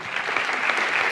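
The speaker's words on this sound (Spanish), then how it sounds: "me gustaría es pedir un aplauso para estas niñas y este niño" Festival audience applauding child actors at a film screening Q&A at the Málaga Festival, a brief burst of dense, even clapping with no voices.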